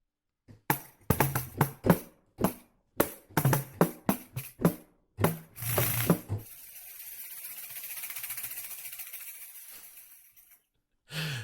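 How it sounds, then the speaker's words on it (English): A pandero frame drum is struck in a quick, uneven rhythm of sharp slaps, followed by a long jingling shimmer that swells and fades, then one final hit. "The pandero."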